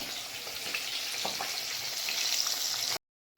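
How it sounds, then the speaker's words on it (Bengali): Puti fish frying in oil, a steady close crackling sizzle with soft pops, running briefly before cutting off abruptly. "এখানে পুঁটি মাছ ভাজা ভাজা হচ্ছে"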